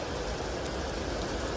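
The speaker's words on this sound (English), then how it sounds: "That means it's raining." Heavy rain falling steadily in Chicago, a dense, even hiss of rain that holds throughout with no voices.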